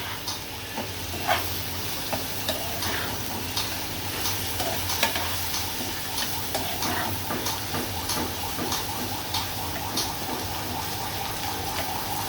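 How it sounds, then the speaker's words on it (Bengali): Prawns and onions stir-fry in a pan, a continuous gentle sizzle broken by regular scraping and tapping of a spatula as the mixture is turned. "এইভাবে সুন্দর করে কষিয়ে নিয়ে পেঁয়াজ এবং চিংড়ি মাছ আমার কষানো হয়ে গেছে।"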